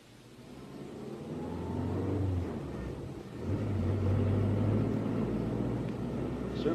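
Car engine driving along steadily, a close low rumble that swells as it picks up speed, dips briefly, then holds a louder drone, with faint talk underneath.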